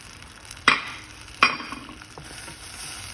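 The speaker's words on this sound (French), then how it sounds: "j'ai fait fondre mon beurre, je vais rajouter ma farine" Flour goes into melted butter in a pan and starts a soft, steady sizzle, with two sharp clinks of a utensil against the pan near the start.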